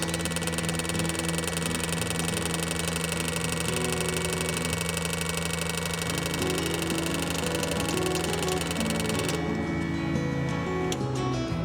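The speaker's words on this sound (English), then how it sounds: "as this fluid gets pressurized into the fuel rail, the injectors will pulse and spray the cleaner through them" An Ancel JC200 fuel injector cleaning machine pulses injectors on a pressurized fuel rail, a steady rapid mechanical ticking over a constant electric hum, close and continuous, with the pulse pattern shifting near the end.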